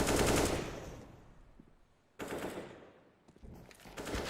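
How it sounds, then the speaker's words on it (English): Rapid automatic gunfire in a Counter-Strike match on the Nuke map, two loud bursts of fast rattling shots separated by a quieter gap, with fainter game noise between them. "That's a nice shot."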